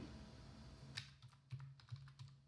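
Keys clatter on a computer keyboard while a plugin name is typed into a search box, a short burst of close, crisp taps in uneven rhythm over a faint steady hum.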